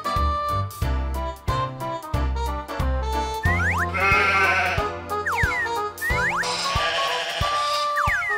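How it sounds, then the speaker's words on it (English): Two wavering sheep bleats ring out over bouncy music, each a drawn-out quavering call with a short gap between them. "Sheep."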